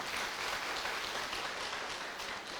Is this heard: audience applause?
yes